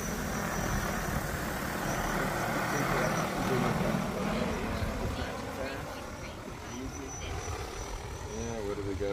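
Propellers of a BROUAV U60 agriculture drone with large 56–58 inch props, whirring steadily in its first test flight outdoors at close range, with people talking over the continuous drone.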